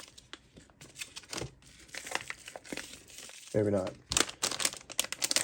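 A plastic package of eBay car parts is opened by hand, with close crinkling and tearing of plastic in bursts and a few brief pauses, while a person speaks briefly.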